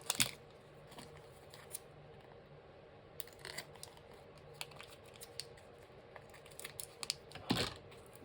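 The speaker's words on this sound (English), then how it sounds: "I'm just going to trim this tape off the edges." Tape trimmed off the edges of an English paper piecing hexagon template, with a few close, crisp scissor snips and light papery rustles over a quiet background.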